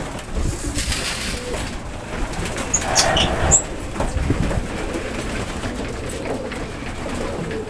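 Racing pigeons coo softly inside their loft, a low continuous murmur of the flock amid steady background noise and faint rumbling.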